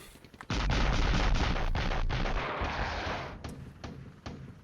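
Artillery fire in the video game NATO Decisive Action, a loud sustained rumbling barrage of blasts that begins abruptly and carries on with a few sharper reports near the end, no talk.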